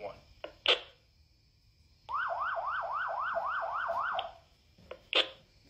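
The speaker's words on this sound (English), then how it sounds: "put that alarm in there just so we can see what the alarm sounds like on here" Alarm tone from a Retevis AILUNCE HA1G waterproof GMRS handheld radio, a rapid warbling siren-like sweep lasting about two seconds, set between short clicks and squelch bursts.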